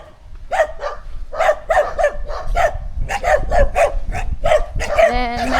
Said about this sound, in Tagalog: merong aso. Maingay aso.